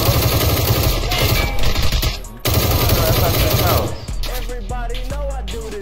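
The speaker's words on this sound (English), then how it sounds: "Somebody sniping" Gunfire in the PUBG video game during a fight around a house and barn: dense, loud, rapid volleys of shots rattle for several seconds, with a brief gap midway, and a voice talks over the later part.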